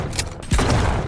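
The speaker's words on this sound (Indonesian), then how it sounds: "Terjadilah tembak-tembakan antara mereka disusul dengan Bill untuk membantu David dan juga Ben." A sharp burst of gunfire with a heavy boom during a shootout in the film Rook, followed by a loud, sustained rumble; short, dense, and close.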